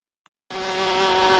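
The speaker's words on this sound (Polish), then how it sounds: "Mamy komara." A mosquito's high, thin whine starts abruptly after a brief click and holds steady and close, slowly growing louder, with no talking.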